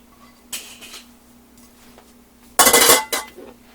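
Chopped turkey being spooned into a pot of stove-top stuffing, two short bursts of metal utensil scraping and clinking against the pot, the second louder and longer, with quiet gaps between.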